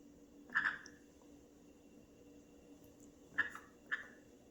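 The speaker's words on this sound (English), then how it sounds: "Are you making baby bird noises?" A pet bird gives soft, squeaky baby-bird chirps: one short burst early, then a quiet pause and two more quick chirps near the end, all faint and close against a low background hum.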